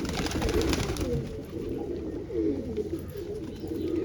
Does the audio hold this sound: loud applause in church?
no